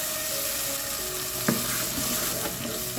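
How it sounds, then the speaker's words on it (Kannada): Dry red chilies splutter in hot oil, a dense continuous sizzle close to the pan with a brief sharp crackle midway and no talking. "ಒಂದೆರಡು ಒಣಮೆಣಸಿನ್ಕಾಯಿ ಸ್ವಲ್ಪ ಚಟಪಟ ಅಂತ ಸಿಗಿದ ತಕ್ಷಣ ನಾವು ರುಬ್ಬಿಟ್ಕೊಂಡಿರೋ ಖಾರನ ಹಾಕ್ಕೊಳ್ಳೋಣ"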